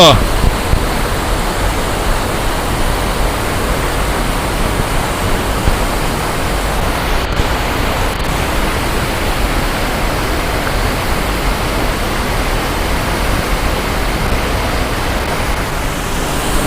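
Devkar waterfall at Yellapur, Karnataka, roars as a steady, dense rush of falling water over rocks, loud and unbroken throughout, with no other sounds standing out.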